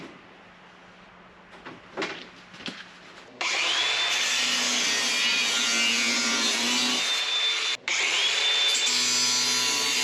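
A floor section of a rusty 1955 Chevy Nomad is cut out, with a few scraping knocks giving way to a loud, steady high-pitched cutting whine that briefly cuts out and then resumes, close up.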